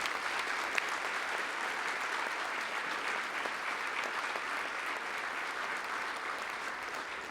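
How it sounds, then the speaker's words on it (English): Steady, soft applause from an audience at a Gold Star family remembrance evening continues evenly, distant and without voices. "with a nice round of applause"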